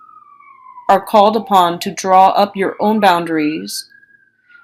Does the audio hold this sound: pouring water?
no